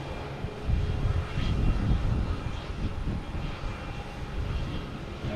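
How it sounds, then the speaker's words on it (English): An SAS airliner at Boston Logan Airport taxis out toward takeoff, giving a steady low engine rumble that holds at moderate, fairly distant loudness throughout. "we got SAS heading for takeoff"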